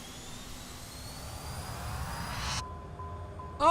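Embraer E190 jet engines spooling up at takeoff throttle in a flight simulator, a rising whine and roar that cuts off abruptly before a short loud burst at the end.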